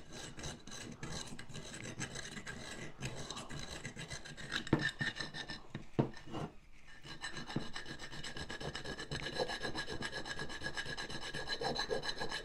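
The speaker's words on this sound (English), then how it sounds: "just half round file, just to smaller teeth, just makes that less, you know, smooths the surface off a bit more than the larger file" Half round file with smaller teeth smoothing a workpiece on a 1/6 scale Armortek Hetzer Jagdpanzer 38 model, giving a steady, continuous rasping rub with a brief pause partway through, moderately quiet and with no voices.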